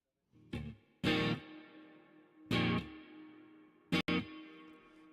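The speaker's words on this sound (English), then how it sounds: "I hear an echo when you play it." Clean electric guitar notes plucked in separate bursts, each ringing out with a trailing echo and reverb tail that fades between strikes.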